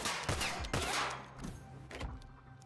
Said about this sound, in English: Might as well practice loading and firing while you're here.